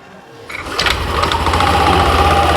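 A Yamaha NMAX scooter engine fires up after a brief starter whir and settles into a loud, steady idle with a rapid buzzing putter, close and without talk.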